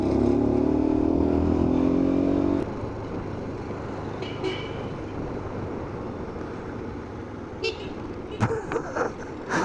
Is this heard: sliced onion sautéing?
no